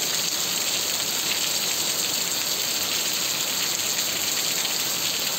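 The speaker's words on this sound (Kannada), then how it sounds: "ಬರ್ತಾನೇ ಐತೆ ಮಳೆ" Heavy night rain pours steadily onto a road with water running along it, a dense, constant hiss that stays loud and even throughout with no voices.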